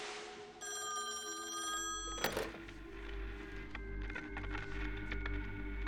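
An old telephone in a long-disconnected house rings with a steady electric bell tone, followed by a sharp knock, then a low hum and faint clicks continue afterward.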